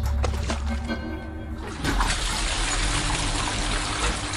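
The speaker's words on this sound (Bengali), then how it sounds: "জলের বালতির খচমচ, তারপর জলের ঢল ঢল আওয়াজ" Water sloshing and splashing from a bucket, broadband and continuous, with a brief rattling clatter early on before a steadier pouring wash fills the rest; fairly loud and close, no voices.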